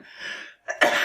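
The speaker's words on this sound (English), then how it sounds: "here comes the crazy coughing." A couple of sharp coughs, close and loud, the second burst harsher, with a brief pause between them and no talking.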